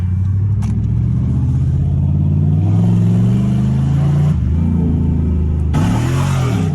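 A rebuilt Dodge Charger R/T with a Hotlicks flame kit rumbles and revs loudly up close, its exhaust spitting with a sharper burst near the end, with no talking.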